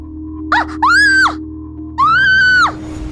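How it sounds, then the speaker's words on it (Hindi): A woman screams in fright as a horror story sound effect, giving a short gasp followed by two loud, sustained high screams with a pause between them over a low background hum. "आंचल जोर से चीख पड़ी।"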